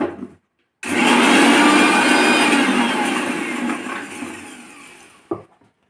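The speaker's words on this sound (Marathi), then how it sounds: "आधी मिरच्या बारीक करून घेते" A mixer grinder whirs as it grinds four or five green chillies for sabudana khichdi, starting abruptly and running loud and steady for several seconds before slowing and stopping with a clunk.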